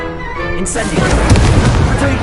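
A burst of magical fire roars up in Hogwarts Legacy as the Incendio spell is cast, opening with a sharp boomy whoosh and then a sustained crackling rush, loud and close.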